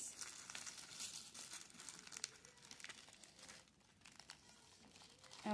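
Gift bag packaging from a Christmas gift swap crinkles and rustles continuously at close range, soft but steady, with small crunchy bursts and no speech.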